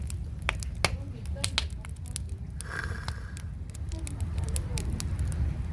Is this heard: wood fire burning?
yes